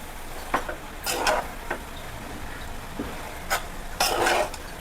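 Vegetable noodles with yellow and red capsicum being tossed and stirred in a pan, with repeated clattering utensil scrapes against the metal in short bursts over a faint sizzle.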